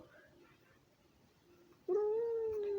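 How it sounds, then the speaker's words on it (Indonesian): An angry cat gives a loud, sustained, wavering yowl that starts suddenly about two-thirds of the way through and holds to the end, after quiet, faint background murmur. "Kucing lagi marah."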